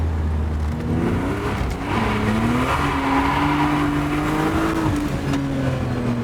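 A powerful car's engine revs loudly and continuously, its pitch rising and wavering as the tires slide sideways, close up with no talking.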